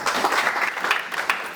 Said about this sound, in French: Que vos applaudissements fortifient les 2 grandes personnalités